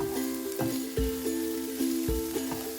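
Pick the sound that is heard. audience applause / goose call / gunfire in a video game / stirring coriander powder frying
stirring coriander powder frying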